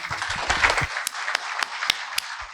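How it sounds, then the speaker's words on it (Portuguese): Scattered claps from a small audience, a few sharp isolated hand claps standing out over a diffuse murmur of clapping, moderately close. "O público se despede de Eugênio com uma salva de palmas."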